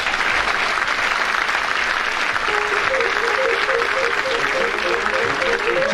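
Studio audience applause at the close of the radio panel game Just a Minute, broad steady clapping that fills the whole stretch, with a faint tonal line of music or voice rising beneath it partway through.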